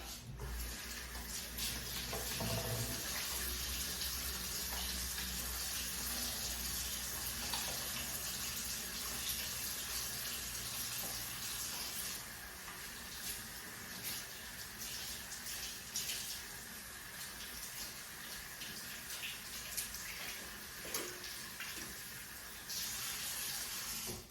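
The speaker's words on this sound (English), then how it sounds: "First, I'm going to wash my hands." A bathroom or kitchen tap runs steadily for about twenty-four seconds while hands are washed beneath it, a continuous broadband splashing that stays fairly loud, with small shifts in the flow, brief clinks and a faint voice near the start.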